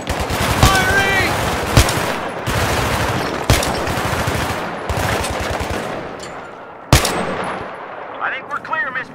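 Machine gun fire in Battlefield 3, loud sustained bursts with sharp individual cracks and several heavy booming impacts, close and rattling over about nine seconds, with faint voices in the mix.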